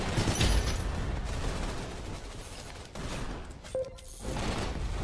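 Rapid SMG gunfire in the Gun Raiders shooter game, set in the Yard map, crackles as a dense, continuous burst of shots with a few sharper bangs among them, loud and close throughout.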